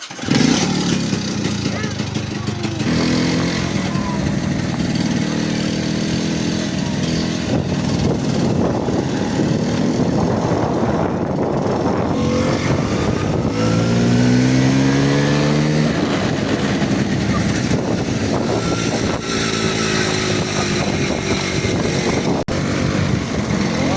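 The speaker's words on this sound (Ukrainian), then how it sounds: "Заводи мотори, прогрівай, поїхали" Moped engines run loudly and rev up and down nearby, with rising and falling whines over a constant drone while people talk and laugh.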